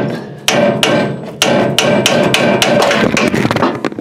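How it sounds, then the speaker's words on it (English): Repeated loud hammer strikes land close by in an irregular rhythm, each a sharp crack with ringing decay, while replacing steering parts on a 1989 GMC 3+3 truck; one strike clips the camera. "Clipped you guys with the freaking hammer."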